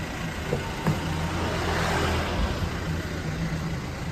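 A Toyota Fortuner SUV drives along, a steady low engine and road rumble heard from inside the vehicle, fairly loud and continuous with a slight swell midway and no talk.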